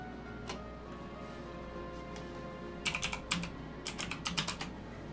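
Fingers typing a folder name on a computer keyboard, a few soft isolated taps followed by two short quick bursts of crisp key clicks, close and quiet with no voices.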